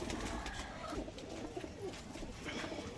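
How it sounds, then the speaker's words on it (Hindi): A Kalsira pigeon coos, with soft low repeated coos against a busy, noisy background of other birds and ambient sound. "ये कलसीरा है। कलसीरा कबूतर।"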